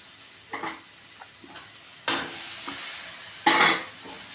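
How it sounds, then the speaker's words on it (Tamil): Paneer sautéing in a pan: scattered scrapes and light clinks of a spoon over a faint sizzle, with two louder bursts of frying as the pieces are stirred, no voices. "பன்னீர் போட்டு ஒரு 2 நிமிஷம் வதக்கி எடுத்தால் போதும்"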